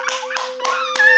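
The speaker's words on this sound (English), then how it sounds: "Now we give a clap for you." Hands clap in a few sharp, separate beats on a talk show, close and fairly loud, over a steady tonal hum.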